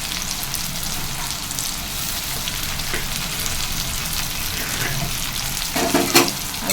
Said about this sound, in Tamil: வெங்காயம் போட்டு இது கூடவே கருவேப்பிலை போட்டுக்கலாம்.